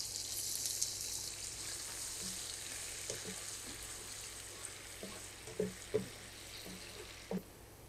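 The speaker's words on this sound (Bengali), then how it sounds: "পেঁয়াজটাকে ভেজে নিয়েছি" Onions frying in oil for biryani give a steady, bright sizzle throughout, with a few soft clicks and taps of a utensil against the pan near the end.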